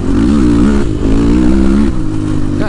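Street-legal ATV quad engine revving loud and close, its pitch rising and falling in a couple of quick throttle blips over a steady running drone.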